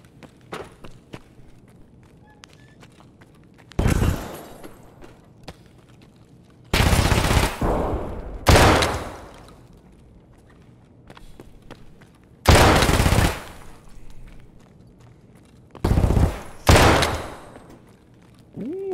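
Gunfire from the video game Escape From Tarkov comes in several loud, sharp bursts of shots, separated by quieter stretches with faint footsteps and movement.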